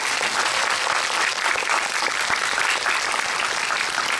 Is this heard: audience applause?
yes